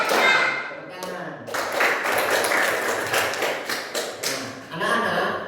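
A class of schoolchildren claps hands in a rhythmic clapping game, sharp repeated taps running through most of the stretch, mixed with young voices and a brief pause partway.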